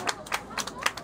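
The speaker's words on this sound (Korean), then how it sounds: "다시 한번 큰 박수 부탁드리도록 하겠습니다." Scattered clapping from a small group at a university campus festival contest, a few sharp claps in uneven bursts, fairly faint and brief.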